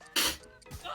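A person with a cold sneezes once, sharp and close, during a live stream of Jackbox party games, and a softer breathy sound follows.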